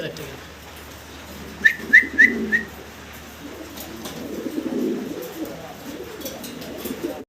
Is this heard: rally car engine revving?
no